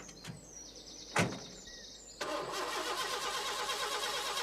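A new Postman Pat van's engine turns over and catches after a door thud, then settles into a steady, fairly loud idle as it warms up.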